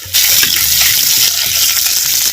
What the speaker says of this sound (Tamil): எண்ணெயில் கருவாடை ஒரு அரை பதத்துக்கு எண்ணெயில் வதக்கிறோம்